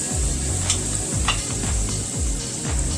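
French fries fry in boiling oil with a loud, continuous sizzle, punctuated by rhythmic stirring and scraping strokes in the pot.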